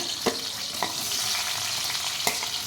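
Green chilies and onions sizzle steadily in hot oil in a pan for mutton curry, a close, even hiss broken by a few sharp clinks of a stirring spoon.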